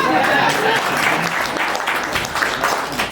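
Audience at a museum's special exhibition opening applauding steadily, a dense wash of clapping hands sustained throughout with slight swells.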